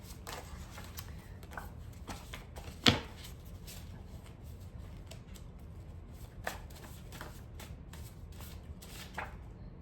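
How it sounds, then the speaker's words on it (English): Quiet, steady riffling of cards being shuffled by hand, with one sharp tap partway through. "Okay, so no, I'm just going to keep shuffling."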